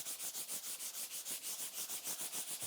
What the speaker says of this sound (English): So the first thing that I do now is sand the shell